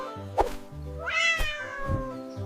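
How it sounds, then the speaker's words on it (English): A cat meows in a clear, drawn-out rising call, close and loud, set between short low thumping sounds. "The cat says meow"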